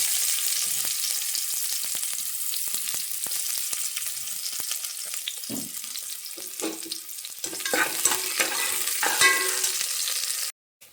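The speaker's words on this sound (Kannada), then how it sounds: "ಈಗ ಈರುಳ್ಳಿ ಫ್ರೈ ಮಾಡುವ." Onions frying in coconut oil and ghee in a pan, a steady close sizzle with occasional stirring clatters, no talking.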